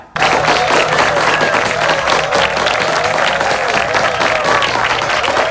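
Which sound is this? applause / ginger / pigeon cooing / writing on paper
applause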